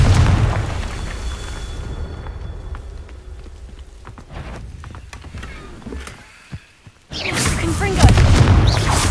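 Confringo fire spell blasts in the Hogwarts Legacy video game, a run of booming explosions and bursts under a busy game mix, dropping briefly near silent before a loud new blast.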